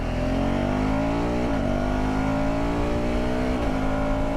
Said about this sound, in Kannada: ಆ್ಯಂಡ್ ಡೌನ್ ಶಿಫ್ಟ್ ಮಾಡಿದಾಗ ಎಕ್ಸಾಸ್ಟ್ ಒಂಥರ ಪಾಪ್ ಆಗುತ್ತೆ.